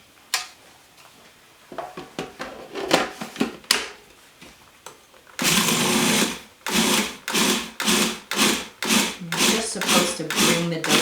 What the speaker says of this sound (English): So really it's much quicker process if we just put it into a food processor.